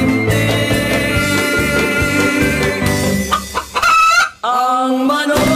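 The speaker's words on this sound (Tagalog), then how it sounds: "Ang manok." Chickens cluck and squawk loudly nearby, with a dense rhythmic layer of clucking that breaks into sharper, higher calls toward the end.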